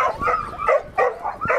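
A young sheepdog on a working farm whines and yips in short, close, rising cries, several quick bursts in a row.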